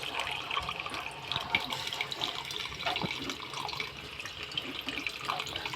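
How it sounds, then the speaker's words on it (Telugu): Tamarind juice pouring into a cooking pot for a raw banana curry, a steady close splashing stream of liquid with no voices. "ఇప్పుడు మనం చింతపండు రసం పోసుకోవాలి"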